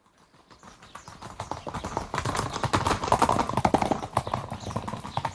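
Hooves of a saddled horse clip-clop in a radio drama, rhythmic hoofbeats fading in and growing louder as the horse approaches, then continuing at a steady trot.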